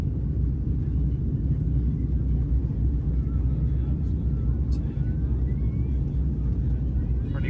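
Virgin Atlantic airliner rolling down the runway on a Manchester to Orlando flight, a steady loud low rumble with cabin shaking that continues throughout, unbroken and close.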